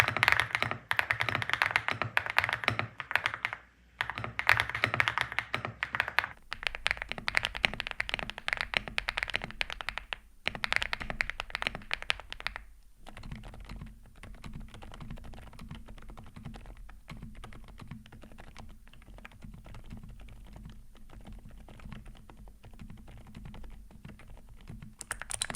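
Mechanical keyboard typing, switching between several switch types on a newly built board, from louder clicky keys to a quieter set; steady close keystrokes run throughout with no talking.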